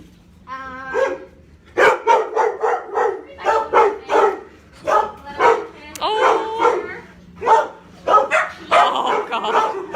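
A mixed-breed dog with some Doberman in it barks loudly and close in a rapid series of sharp barks and yips, with an occasional whimper, while people talk nearby.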